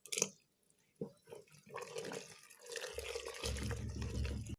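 Wazwan-style mutton yakhni broth comes to a boil in a pot, giving faint bubbling and dripping sounds that thicken into a low, steady simmering rumble.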